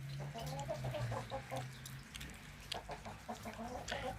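Black hens cluck in short, repeated calls at a low level, with a soft hum running underneath throughout.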